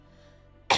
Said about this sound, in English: I coughed.